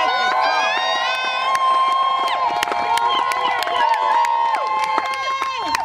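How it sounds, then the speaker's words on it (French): Guests at a civil wedding ceremony applaud and cheer together, with sharp claps and excited shouts in a dense, steady crowd roar that fills the whole stretch. "On applaudit."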